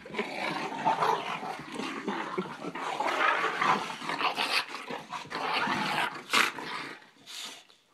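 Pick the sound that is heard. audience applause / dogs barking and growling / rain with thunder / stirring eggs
dogs barking and growling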